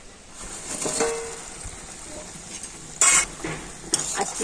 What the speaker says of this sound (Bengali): মিষ্টিগুলোকে আমি দু মিনিট একটু ফুটিয়ে নেব